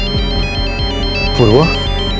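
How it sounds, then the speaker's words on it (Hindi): A mobile phone ringtone plays loud and close in a repeating electronic melodic pattern, with a brief rising tonal flourish partway through. "मेरे फोन की घंटी बजी थी"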